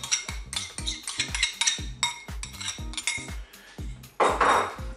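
Salad being tossed with a yogurt-mustard sauce in a bowl, utensils clinking and scraping against the dish in quick irregular strokes, close and fairly loud, with no talking.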